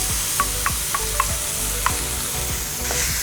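Curry paste of raw onion and garlic sizzling in a pan for Indonesian beef short rib rendang: a loud, continuous sizzle with a spoon scraping and stirring in short, repeated strokes.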